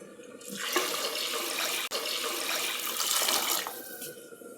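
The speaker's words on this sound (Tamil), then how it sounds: "இதுக்கு 4 டம்ளர் தண்ணி சேர்த்துக்கலாம்" Water pours steadily into a pot of rice and dal for mixed rice, a close, continuous splashing rush that stops briefly midway and then resumes.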